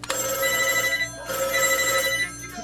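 A telephone rings with a loud, close electric bell in two long bursts separated by a short gap, with no other sound.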